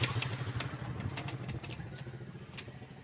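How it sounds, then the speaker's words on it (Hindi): A motorcycle engine putters unevenly at low revs, with rhythmic chugging and occasional metallic clicks, as if just started by hand the old-fashioned way and idling rough, at Harrand Fort in Rajanpur, Pakistan. "ये भाई साहब देसी तरीके से मोटरसाइकिल स्टार्ट करने जा रहे हैं।"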